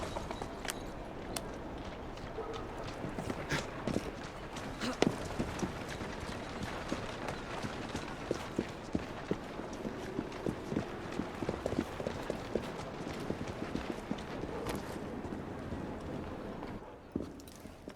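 Steady hoofbeats clip-clop throughout, a horse in the video game Assassin's Creed Syndicate moving at a brisk pace with a busy background bed; a voice is heard briefly.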